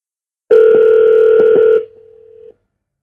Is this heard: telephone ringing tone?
yes